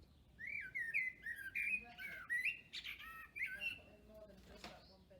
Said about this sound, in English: The blackbird is the laid-back flutist.